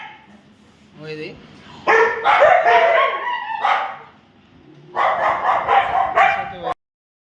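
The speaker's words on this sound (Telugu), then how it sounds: "ఇదండి కుక్కలు అన్నీ మొత్తుకుంటున్నాయి." Many dogs at a breeding kennel barking together, close and loud, in two dense overlapping bursts separated by a quieter pause, with yips and whimpers mixed in.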